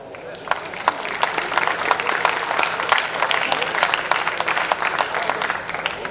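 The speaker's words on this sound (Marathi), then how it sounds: "एक जोरदार टाळ्या वाजवून द्या" An audience at an alumni meet claps together, a dense, steady patter of many hands that carries on for several seconds at a fairly loud level without letting up, with some murmuring mixed in.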